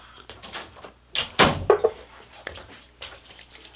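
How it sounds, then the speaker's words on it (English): A door is pushed shut indoors during a couple's casual live stream at home, giving one sharp close thump followed by a few softer knocks and rubbing handling sounds nearby, with no talk. "Let me shut the door here."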